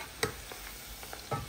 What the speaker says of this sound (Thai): ตอนนี้เราก็ทอดหมูได้สีสวยน่ากินแล้วนะคะ